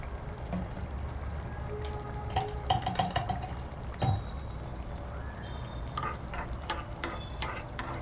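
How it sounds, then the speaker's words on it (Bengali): Whole cumin seeds hit hot ghee and set off a steady, fairly quiet sizzle, with a few light clinks and scrapes of stirring over a constant background hiss. "ঘিটা গরম হয়ে গেছে প্রায়। এর মধ্যে একটু সামান্য জিরে দিয়ে দিচ্ছি, গোটা জিরে।"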